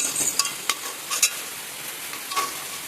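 Pantua sweets sizzle steadily in hot oil, a continuous frying hiss broken by a few brief scraping and stirring clicks as they are turned and lifted.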